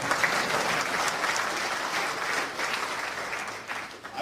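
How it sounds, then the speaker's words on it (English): Strong, continuous audience applause fills the room during a talk, many hands clapping at once and tapering slightly near the end. "Huge clap."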